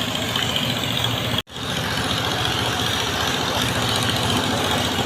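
The passenger launch Sundarban 16 idles at its mooring, a steady low engine rumble and broadband hum running continuously, interrupted only by one brief dropout near the start.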